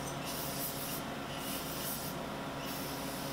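Clear enamel finish sprayed onto a double-neck acoustic guitar built from two older guitars, heard as a steady close hiss with brighter bursts that pulse on and off for a few seconds.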